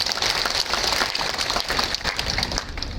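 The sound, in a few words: crowd applause at a rally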